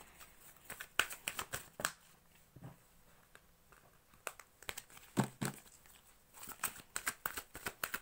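Tarot cards being shuffled during a love-life pick-a-card reading, giving bursts of crisp riffling and flicking in short clusters with quiet gaps between, close and moderately soft with no talking.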